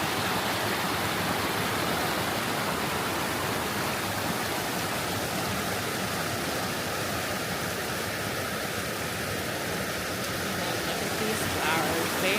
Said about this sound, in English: This beautiful water source.